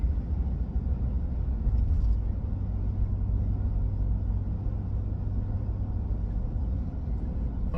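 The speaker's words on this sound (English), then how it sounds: "Driving through Charlotte again, stuck in traffic." Car stuck in traffic through Charlotte, a steady low road rumble and engine drone heard from inside the vehicle, constant and moderately quiet with no talking.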